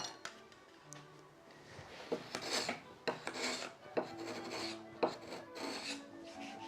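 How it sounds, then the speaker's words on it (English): Card scraper rasping surplus wood filler off a wooden door during restoration, a series of short, close scraping strokes in irregular rhythm, each a rough burst with brief pauses between, no talk. "Okay, now with the card scraper."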